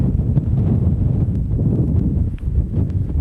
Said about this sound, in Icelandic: Þetta er nú ekki svæsinn vindur